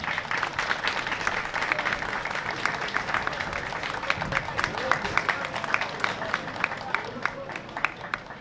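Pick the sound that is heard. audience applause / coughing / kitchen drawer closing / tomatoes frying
audience applause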